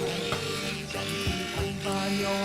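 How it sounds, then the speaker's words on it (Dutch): Continuous whirring buzz of an immersion blender running at high speed, mixing matcha powder into warm water, steady and close, with slight shifts in pitch as it works. "Gebruik de staafmixer 10 tot 12 seconden."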